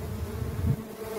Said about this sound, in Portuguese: Eu não sei se são outras abelhas que estão querendo invadir